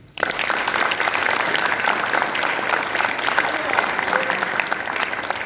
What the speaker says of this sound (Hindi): आइए उनके नाम पर तालियां मिले।